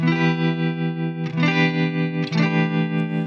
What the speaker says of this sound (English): or you can play the tremolo alone too